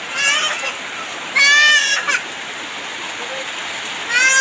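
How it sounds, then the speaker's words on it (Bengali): Steady heavy rain hisses across a wet village scene with soaked trees and ground, while children shout and play nearby in bursts over the constant downpour. "এই যে কত বৃষ্টি হচ্ছে"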